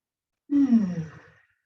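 A single deep, audible exhalation during a seated chair yoga session, a soft sighing breath that swells and fades alone over about a second, close and clear.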